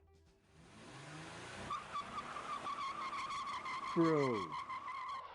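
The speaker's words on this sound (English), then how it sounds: "they really committed to the burnout" A car does a burnout with tires skidding and squealing, a steady harsh roar lasting several seconds that swells near the end, heard under a voice.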